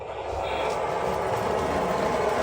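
A Lionel model garden train rumbles along its track indoors, a steady, fairly loud mechanical whir and rattle that builds slightly at the start and then holds even.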